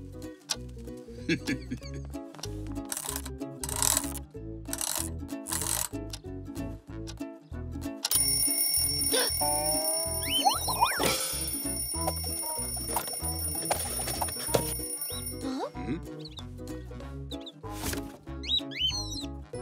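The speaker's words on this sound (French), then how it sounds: "Voici mon vieux réveil. Et il marche encore." An old alarm clock rings in a cartoon scene, a continuous metallic ringing in the middle of the span, framed by rhythmic ticking and other cartoon sounds with some voices.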